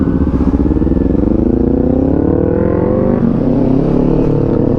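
A Kawasaki Z400 motorcycle on a group ride, its engine droning loud and steady at close range with the pitch slowly rising and dipping as it pulls along, with no talk.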